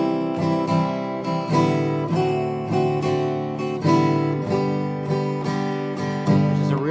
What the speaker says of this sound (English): you just want to make sure as you're changing chords that you're not throwing in that open strum as you're changing chords